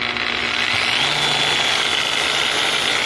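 A Maxshine M550 mini rotary polisher fitted with a 1-inch pad runs at a steady high-pitched whine, close and continuous, with no talking.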